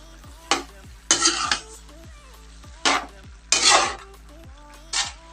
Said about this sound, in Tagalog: Haluin lang natin paminsan-minsan.